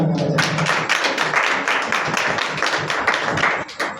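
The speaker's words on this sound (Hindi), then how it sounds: "मैं खुदावंद यीशु मसीह के नाम पर जोरदार ताली बजाएं" A church congregation claps loudly and together, a dense sustained burst of applause that fills the room for several seconds after a short spoken lead-in.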